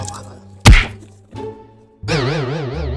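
A heavy knock on a door, then a softer second knock, followed by a loud warbling tone.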